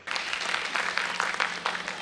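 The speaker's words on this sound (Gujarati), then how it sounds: "વાહ ભાઈ વાહ, તાળીઓ થઈ જાય એકવાર એમને માટે" A school annual-function audience at Podar School, Upleta, claps for a skin-specialist doctor, a steady, moderately loud wash of many hands that starts abruptly and keeps going evenly.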